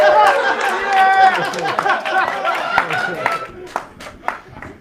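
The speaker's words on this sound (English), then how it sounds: "Please clap." Audience at a live roast comedy show breaks into scattered clapping mixed with chatter and some laughter, a brief burst of applause thinning out into a few isolated claps.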